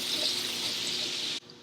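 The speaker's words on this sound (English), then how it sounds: "Let's add the water to it, nice and slow." Water poured slowly into a hot pan with toasted garlic, a steady hissing, splashing rush that runs for over a second and then cuts off abruptly.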